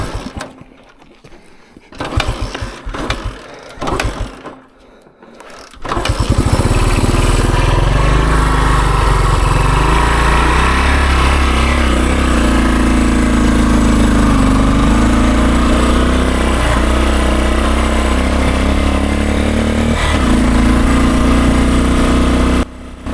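A 50-year-old Honda enduro motorcycle engine sputters through a few rough starting attempts, then catches and runs loud and steady with a buzzing, slightly uneven tone throughout.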